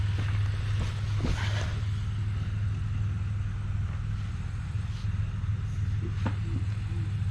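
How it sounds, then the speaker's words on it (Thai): A tractor ploughs a vegetable field in Portugal, giving off a steady, low engine drone that holds at an even level throughout, with faint scattered knocks and a touch of wind noise. "มีรถไถปลูกอยู่ครับ"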